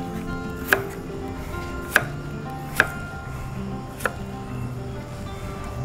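A knife chops carrots finely on a cutting board, four sharp, separate knocks spaced about a second apart over a quiet room background.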